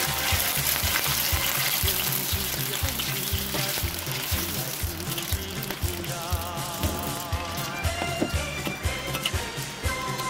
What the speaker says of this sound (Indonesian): pertama-tama kita akan goreng kembang tahunya.